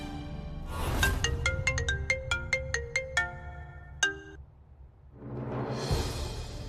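A phone plays a melodic ringtone while a call is being placed: a quick run of bright, evenly spaced electronic notes, then a final lone tone, followed by soft rustling.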